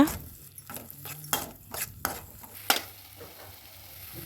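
Masala mixture with added water stirred in a pan for a Karwar-style Pedi/Hilsa fish curry, a series of scraping, wet stirring strokes with a few sharp utensil clicks against the pan, close and fairly quiet.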